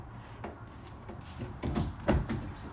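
A car door panel is pried and pulled off, making a few soft plastic clicks and knocks that build to a louder snap near the end, close and quiet, with no talking.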